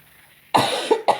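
A person coughs sharply a few times in quick succession, close and loud after a moment of near silence.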